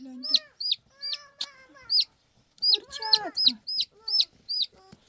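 Hens in a coop cluck in a run of short, sharp calls with brief pauses between them, close and clear in a quiet setting.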